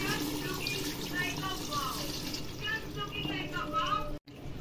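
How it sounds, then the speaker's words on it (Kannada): Water is poured into a pot of chicken biryani where masala-coated, salted chicken is cooking, giving a steady close rush of splashing liquid across the whole moment, with a voice talking over it. "ಸೊ ಇವಾಗ ನೀರು ಹಾಕ್ತಿದ್ದೀವಿ."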